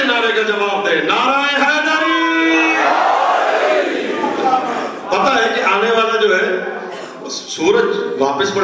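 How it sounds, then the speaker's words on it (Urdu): Crowd at a Muharram religious gathering shouting a slogan response together, loud massed voices rising and falling in bursts between chant calls. "مل کے نعرے کا جواب دے، نعرہ"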